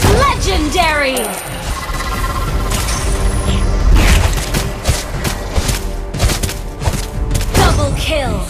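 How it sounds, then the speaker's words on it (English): Turret destruction in the Mobile Legends: Bang Bang battle arena, a dense, loud clash of booms, thuds and clattering effects piling over one another, with a voice speaking through the busy mix. "Our turret has been destroyed."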